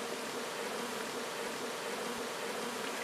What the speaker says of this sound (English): Actually, it's a pollen trap where the bees go through.